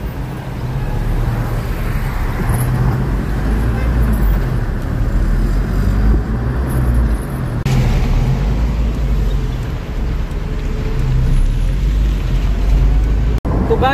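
Evening street traffic in Saudi Arabia, a steady broadband roar of passing cars and buses heard from a vehicle, continuous and fairly loud, with no clear talk over it.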